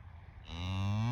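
A single cow lets out a deep, drawn-out moo that swells in loudness, rising out of quiet outdoor background.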